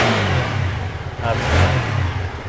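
The engine of a used TVS Apache 4V motorcycle runs close by with a steady mid-pitched drone, then swells into a short rev about halfway through.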